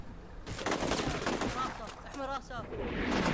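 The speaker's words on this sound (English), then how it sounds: "They return fire." Return gunfire erupts in the Combat Mission Shock Force 2 war game, with dense rattling bursts and sharp cracks layered over one another, loud and close with a rolling echo.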